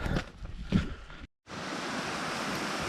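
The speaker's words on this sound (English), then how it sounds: "And this is the Pyrgad waterfall. It's one of the southern waterfalls." Pyrgad waterfall, a small southern waterfall on a walk up Cwm Pyrgad, gives a steady broadband rush of falling water, close and constant after a brief cut, with rougher water noise at the start.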